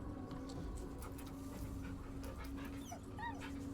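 A dog in the video game Baldur's Gate 3 pants softly and lets out a few high whimpers and yips near the end, over a steady low game ambience with no talking.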